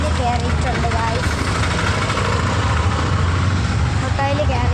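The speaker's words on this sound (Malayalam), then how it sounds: "നമ്മളൊരു ഓട്ടോയിൽ കയറിയിട്ടുണ്ട് ഗായ്സ്." Auto rickshaw engine running steadily during a ride through heavy traffic in Kannur, a constant low idling rumble and road noise throughout, with a voice talking over it.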